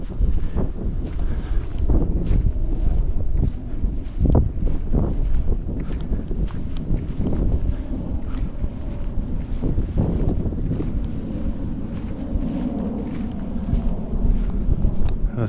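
Strong wind buffets steadily across an open prairie, roaring and gusting with occasional soft thumps and rustles close by.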